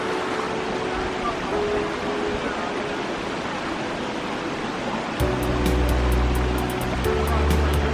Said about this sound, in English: we're by this beautiful creek with a cascading waterfall up there.